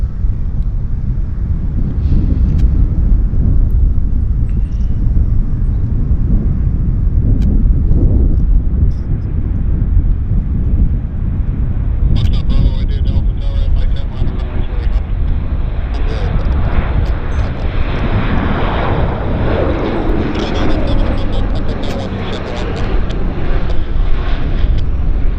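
An airliner rolling for takeoff at Vancouver Airport, a loud continuous engine roar with heavy wind buffeting the microphone, the jet noise swelling and growing brighter toward the end.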